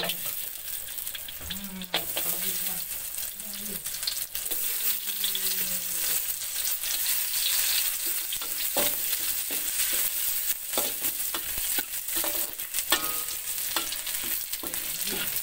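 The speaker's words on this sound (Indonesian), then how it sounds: "kita goreng dulu bahan merah ya" Red ingredients for Chinese cabbage capcay fry and get stirred in a hot pan, giving a steady sizzle with scraping and clatter throughout. No one speaks.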